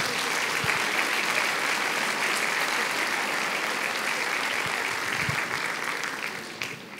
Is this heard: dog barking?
no